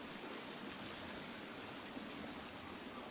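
In the video game The Forest, a waterfall pours inside a cave as a continuous, even rushing wash of water. It is faint and steady, with no voices.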